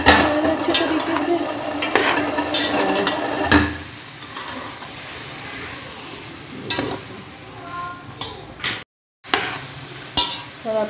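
Vegetables frying in a pan while being stirred: loud, close scraping and clattering of a spoon against the pan over a continuous sizzle, with a brief break and quieter stretches before the stirring picks up again.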